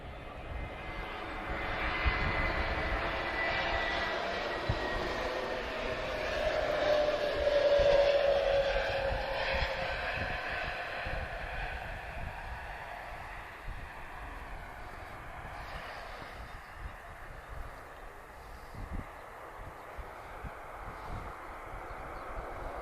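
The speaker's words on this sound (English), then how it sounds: "And a very nice arrival from Turkish Airlines there" A Turkish Airlines airliner arrives at Lisbon Airport, its engine roar broad and steady at moderate distance, swelling slightly midway and then easing to a lower rumble as it rolls on.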